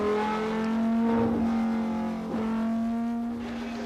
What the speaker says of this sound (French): le rugissement d'un moteur révolutionnaire, le 1500 cm3 turbo-compressé de la Régie Renault